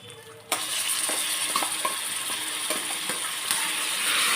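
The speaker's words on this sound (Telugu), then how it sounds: "ఇప్పుడు గోంగూర వేసుకుందామండి తాలింపులో." Gongura leaves hit hot tempering oil in a pan with a sudden burst of sizzling, followed by steady frying hiss and a few scraping stirs of a spoon.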